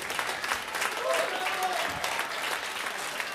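A concert audience at a jazz trio performance applauds, moderately loud clapping that continues evenly, with a voice briefly heard over it.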